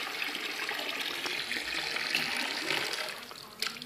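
Water rushes steadily through a water-pulse operated mineral jig during a trial run. The flow is a close, continuous hiss and splash with no clear pulsing, and a brief clunk comes near the end.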